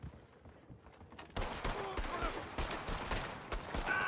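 Gunshots ring out in a Red Dead Online duel in West Elizabeth, several sharp cracks fired in quick succession after a quiet start, with talk faintly underneath.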